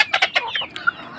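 A domestic desi rooster on a small poultry farm gives a quick series of clucks, about five or six close, fairly loud notes followed by a brief higher call.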